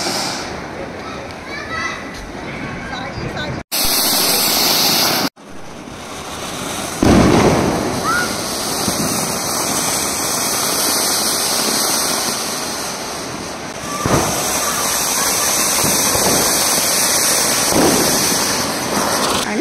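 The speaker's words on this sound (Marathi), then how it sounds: "फटाके खेळते, फटाके फोडते" Diwali firecrackers being set off at a family celebration at home: loud sharp bangs and crackling bursts, with children and adults talking and calling out throughout.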